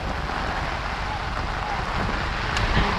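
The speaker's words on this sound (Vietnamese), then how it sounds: "Trời mưa quá." Steady broadband roar of heavy rain mixed with gusting storm wind during a truck rescue from mud, constant and close throughout with no clear breaks.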